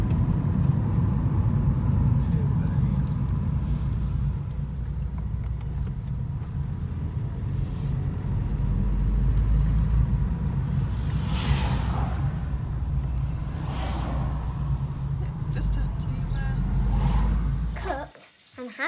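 A car driving along a road, heard from inside the cabin as a steady low rumble and road roar with occasional whooshes, with voices talking faintly over it before it cuts off near the end.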